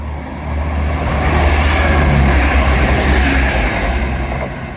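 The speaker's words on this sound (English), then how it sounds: "here's a train to lighten up yours" Train passing near Teignmouth on a railway line, a loud, close, continuous rumble with deep low-end roar and rising rolling noise that swells and holds steady, light rain falling.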